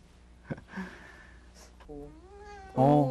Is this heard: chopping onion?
no